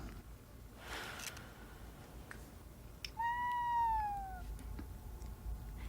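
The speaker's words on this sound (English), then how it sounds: "the cat just decided to be vocal in this" A pet cat called Maddie lets out a single drawn-out meow that is clear and fairly close. It stands out over faint room hiss after a brief rustle.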